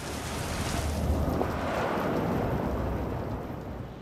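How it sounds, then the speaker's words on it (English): Rain falls outdoors near a garage in a dense, even hiss that swells and fades gently over a few seconds, with no voices. "Look at that, it's raining."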